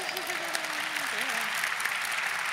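Audience applause at a White House educational excellence event, a steady dense clapping throughout, with a voice speaking briefly over it near the start.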